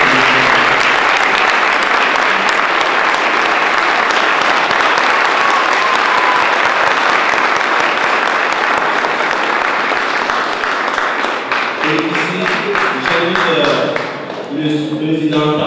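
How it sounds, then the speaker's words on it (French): Sustained audience applause fills a solemn JCI U-Cesag ceremony in Senegal, loud and steady throughout, with a voice starting to speak near the end as the clapping thins. "Je vous prie avec beaucoup d'acclamations de recevoir ici Cyril Diallo pour recevoir."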